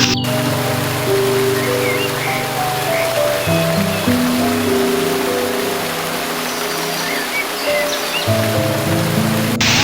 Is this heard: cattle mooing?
no